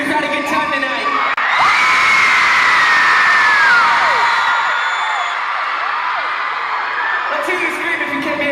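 A live concert audience screams and whoops loudly in a sustained crowd roar, with rising and falling shrill yells standing out above the mass of voices.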